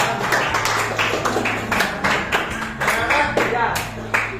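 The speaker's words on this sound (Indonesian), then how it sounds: "Oke, kita beri tepuk tangan kepada" Classroom applause in a coding lesson, students clapping in uneven bursts close by, mixed with chatter and a low hum throughout.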